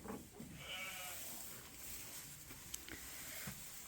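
Sheep and nursing lambs in a Dorset pen on a sheep farm make soft, scattered bleats and faint shuffling close by, with occasional quiet talk in the background.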